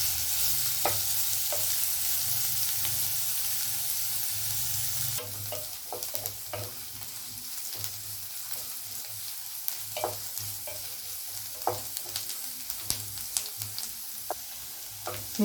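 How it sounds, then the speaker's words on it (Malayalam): Chopped onions and garlic are sautéed in a pan for chickpea curry, a quiet continuous sizzle with intermittent crackles and spatula scrapes, close by and with no voices. "നല്ല ഗോൾഡൻ ബ്രൗൺ കളറാവുന്നിടം വരെ ഉള്ളി നല്ലോണം വഴറ്റിയെടുക്കാം."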